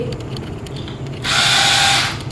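An electric hair trimmer buzzes into a steady high whir partway through, running for about a second over low background hum before cutting back.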